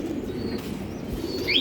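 Pigeons in a home loft with breeding pairs coo in a low, rolling murmur, fairly close. A few faint chirps rise above it, with no talking.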